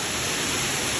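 Steady broadband roar of the Katiki waterfalls near Araku, a continuous dense rush of falling water filling the whole short moment with no voices.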